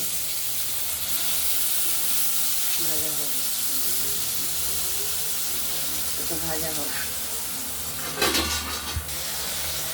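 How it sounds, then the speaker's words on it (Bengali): Potatoes frying in hot oil tempered with cumin, nigella seeds and dry red chilli, a steady close sizzle throughout with a brief louder hiss burst near the end and faint voices underneath. "এবার আলুটা আমরা ভেজে নেব"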